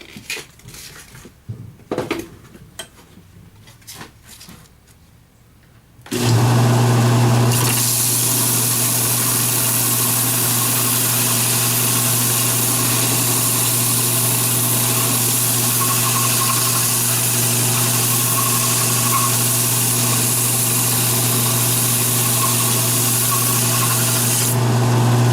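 A sanding block works a wooden segmented ring. Quiet handling clicks give way to a loud, steady rubbing whir with a low hum that holds unbroken for nearly twenty seconds and then stops.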